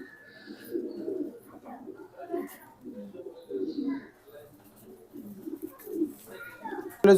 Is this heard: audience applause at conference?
no